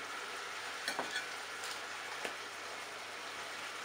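Lobster curry sauce, thinned with a little added water, simmering in a pan, giving a steady soft bubbling hiss with a few faint stirring scrapes, close and quiet.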